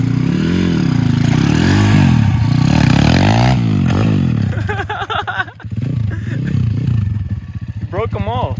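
A pit bike fitted with chair wheels revs and warbles loudly, its engine pitch swinging up and down, then grinds and clatters across wood with scraping rattles, while voices talk over the noise.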